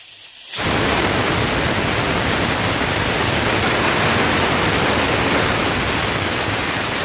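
A pressure cooker vents steam while cooking North Karnataka biranji rice: after half a second of quiet, a loud, steady, unbroken hiss starts and holds to the end.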